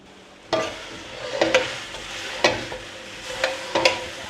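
Vegetables for a stir fry cooking in a hot pan, a soft steady sizzle broken by several sharp scraping stirs of a utensil against the pan, close and without talk.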